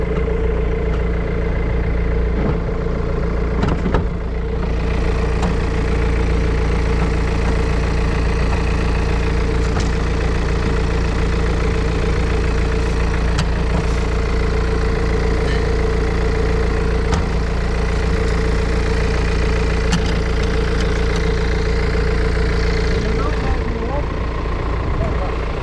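A 2017 BMW 220 car engine idling, a steady, loud low drone with a constant hum that barely varies throughout, heard close up.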